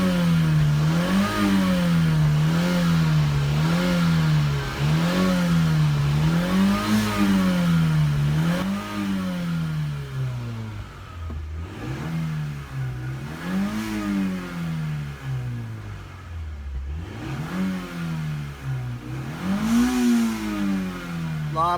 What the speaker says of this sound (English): I've been letting it idle and intermittently revving it